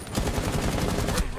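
Rapid bursts of gunfire from Rainbow Six Siege ranked play, a fast rattling series of shots packed closely together, loud and near.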